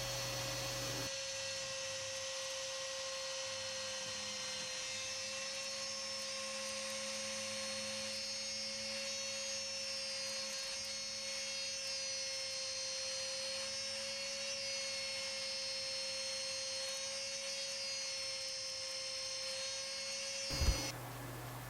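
A wood router with a 1/4 inch straight cut bit follows a glued-down template cutting a name into a toddler's wooden chair, giving a loud steady high whine with a sustained tone, then stopping abruptly near the end.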